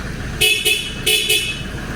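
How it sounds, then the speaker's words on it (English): Horn of a heavy haulage truck with a big 730 V8, sounding four short, loud beeps in two pairs over a low idling rumble. "Give him a beep."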